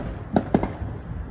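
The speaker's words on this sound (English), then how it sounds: "fireworks." Fireworks bursting outdoors on the Fourth of July in Pearland, Texas, heard as two or three sharp, fairly distant booms in quick succession over a steady background rumble.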